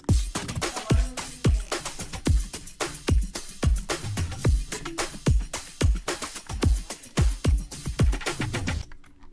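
Sped-up sampled dubstep loop with added drums plays in a fast, punchy rhythm of repeated hits and bass thumps, loud and dense, stopping abruptly at the end.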